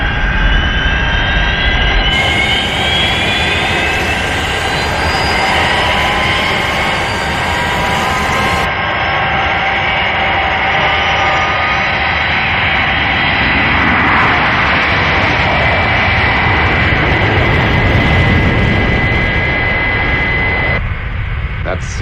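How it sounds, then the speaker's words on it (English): The Fireflash airliner takes off in a Thunderbirds episode, a loud sustained jet engine roar with rising whine that holds steadily for the whole stretch. "That's certainly some aircraft."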